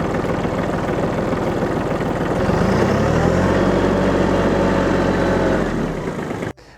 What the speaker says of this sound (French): Je vais simplement reculer et le tracteur va se mettre à reculer.